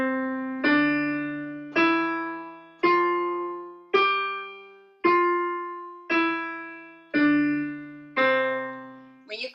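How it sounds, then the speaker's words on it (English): Piano exercise with the right hand louder and the left hand softer, heard as eight evenly spaced struck chords that each ring and decay, close and clear with no talking. "we're going to start with the right hand being louder and the left hand being softer."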